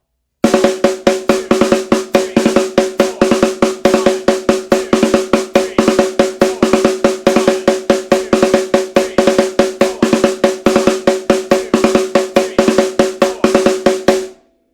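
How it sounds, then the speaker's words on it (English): A snare drum plays a fast, steady run of sharp strokes with crisp rattle, evenly grouped, ending abruptly. "This last phrase, played on just the snare drum, sounds like this."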